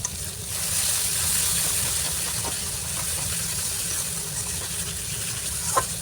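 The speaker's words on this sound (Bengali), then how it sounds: "একটু পানি দিয়ে মশলাটা খুব ভালো করে কষিয়ে নেব।" Spice paste sizzles and fries with a splash of water for a fish head curry, a steady loud hiss close up with a faint clink or two.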